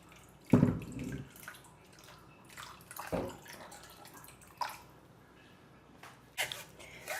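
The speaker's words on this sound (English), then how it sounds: "Now pour some drinking water to stop the cooking process." Drinking water splashes and pours over cooked sago in short bursts, with a few intermittent gushes and drips over a quiet background.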